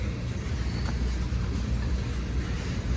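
A long graffiti-covered freight train rolling past in Berkeley, a steady low rumble and clatter of rail cars, close and continuous without pause.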